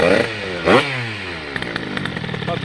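Tuned 80cc two-stroke moped engine revving hard, a rising buzzy whine that spikes sharply once, drops back, then climbs again in a raspy, crackling pitch sweep, loud and close with no talk.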